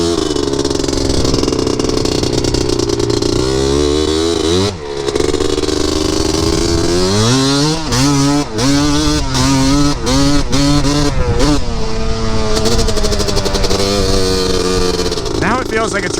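A 330 dirt bike fitted with a giant FTZ pipe revs hard and loud, its engine pitch sweeping up and down through repeated throttle blips and one brief drop, with a rider's voice faintly under the roar.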